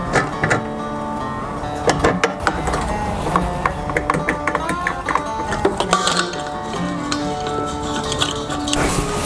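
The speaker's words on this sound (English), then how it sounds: "now I'll hook the hose up to the grill and the tank" Propane hose fittings clicking and ratcheting as the hose is screwed onto a Weber Q grill and a gas tank, with a steady run of close, sharp metallic ticks and clacks.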